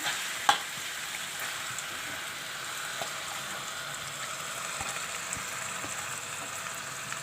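Cut chicken pieces land in a hot pan of sautéed aromatics, a sharp clunk followed by a continuous, even hiss of frying with faint crackles and occasional stirring sounds.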